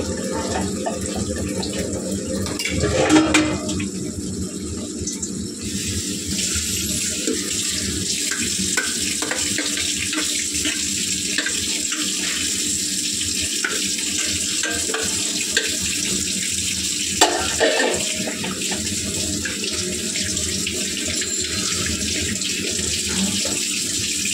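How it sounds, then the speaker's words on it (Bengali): Dishes are washed under a steadily running kitchen tap, with continuous splashing water and intermittent clinks and scrapes of utensils throughout. "তো দেখো বাসন মাজা হয়ে গেছে"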